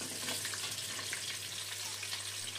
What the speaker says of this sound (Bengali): ফোড়নটা দিয়ে ভালো গন্ধ বেরোলে এর মধ্যে দিয়ে দিলাম কেটে রাখা শিম।